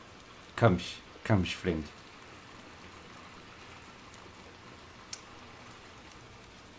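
Steady, soft rain falls in the video game Little Nightmares 2, a faint continuous patter under a voice that speaks briefly near the start.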